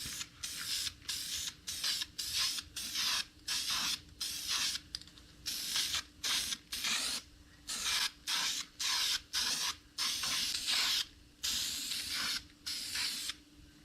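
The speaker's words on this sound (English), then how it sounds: "I've got this self-etching primer that I'm gonna do a light coat on the bare metal." Self-etching primer hisses from a spray can onto bare metal on a Hardbody mini truck, in repeated short bursts of about half a second with brief pauses, close and fairly loud, with no talking.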